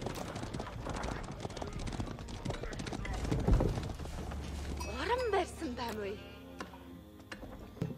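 Horse hooves clip-clop in the Age of Empires 4 strategy game, a steady patter under game effects and a dense mix of sound, with a short whinny-like cry partway through.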